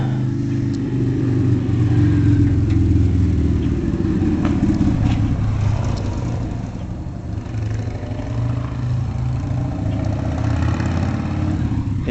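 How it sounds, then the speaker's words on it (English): Several motorcycles pulling out and riding off, their engines rumbling steadily at close range with swells of revving, and no talk over them. "Yep, the bikes are getting out."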